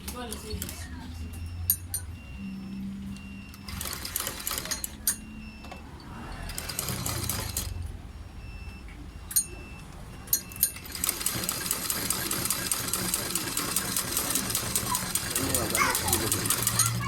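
A sewing machine stitches down fabric for a cap, bursts of mechanical running that start and stop before settling into a longer continuous whir, with some talk mixed in.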